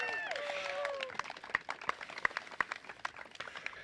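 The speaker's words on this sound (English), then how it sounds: "That should get some applause right there." Scattered applause from an outdoor crowd at the groundbreaking ceremony for the new Greeley West High School, with sharp individual claps and a few whoops over a mid-distance murmur.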